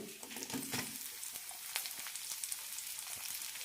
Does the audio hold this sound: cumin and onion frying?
yes